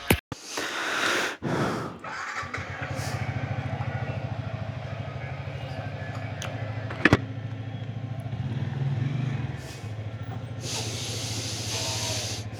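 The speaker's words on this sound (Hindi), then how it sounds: "तो अभी हम बाइक चलाते हैं नीचे।" A motorbike ridden downhill, its engine a steady low drone with a faint rumble heard through a helmet-cam microphone amid wind rushes and some breathing, while no one speaks over it.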